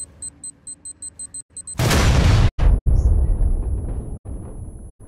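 A C4 charge in PUBG ticks with rapid electronic beeps, then detonates in a loud, close blast. A rumbling, crackling aftermath follows, broken by a few brief cutouts.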